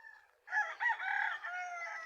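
A rooster on a small farm gives one clear, fairly close crow, a rising, drawn-out call lasting over a second after a short faint lead-in, with no talk over it.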